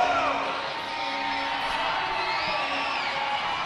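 A home basketball crowd cheers in an arena during a men's college game, a dense sustained roar of whoops and yells that holds steady throughout without pause.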